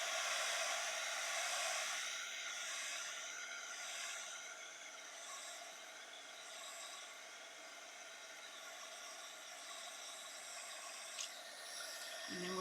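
A heat gun blows on embossing powder from the back of an art journal page to melt it, giving a continuous, even whooshing rush of air with no talking.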